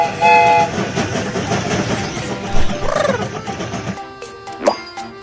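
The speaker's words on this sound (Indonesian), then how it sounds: "Kereta ini akan segera berangkat." A cartoon train pulls out in a BabyBus panda video game, rumbling and clacking near the listener, with bright whistle toots at about three seconds and again near the end.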